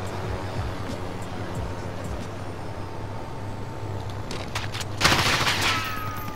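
Gunfire from the Call of Duty Modern Warfare video game: a dense, steady din of battle noise runs throughout, swelling into a louder, sharper burst of shots near the end.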